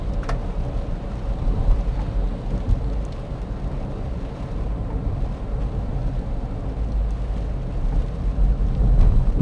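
Steady broadband hiss of rain and wet tire noise with a low road rumble inside a car driving along Riverside Drive in Burbank, continuous and fairly loud with no talking.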